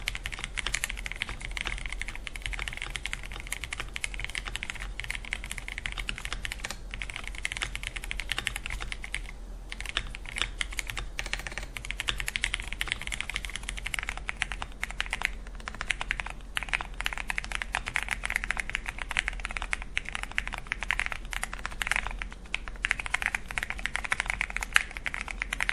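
Steady stream of mechanical keystrokes from a stock Akko 5057S budget keyboard, typed continuously at a quick, even pace, close and clear with no voices over it.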